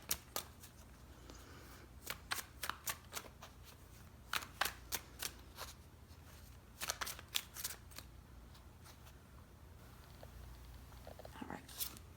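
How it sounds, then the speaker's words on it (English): Tarot cards being shuffled and pulled, heard as clusters of quick, crisp riffling bursts separated by short pauses, close and moderately loud with no talking. "I'm going to pull some clarifying tarot just to get a little deeper on those messages."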